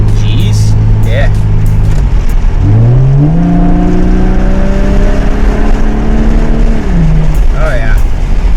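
A Lexus SC300 engine with a custom-made exhaust idles with a throaty rumble, then revs up and holds a deep, loud growling exhaust tone before dropping back down.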